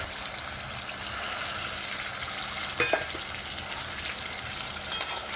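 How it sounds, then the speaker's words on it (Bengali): Ground spice paste with raw garlic and ginger fries in oil in a wok, a steady close sizzle throughout with a couple of brief scraping stirs near the middle and end. "এবার এই কড়াইতে যে পরিমাণে তেল রয়েছে, তেলের মধ্যে বেটে রাখা মশলাটা অ্যাড করে দিতে হবে।"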